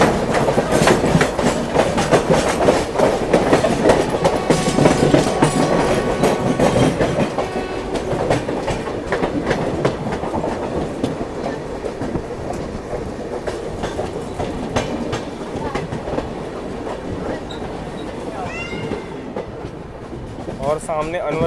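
The 12535 Lucknow–Raipur Garib Rath train runs on the rails near Kanpur's Anwarganj, with continuous loud clickety-clack and rumbling heard from inside the moving coach.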